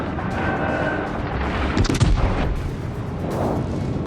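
Naval guns fire in the World of Warships video game, heavy booming shots layered over constant sea and engine rumble, with a cluster of sharp bangs in the middle and dull distant impacts.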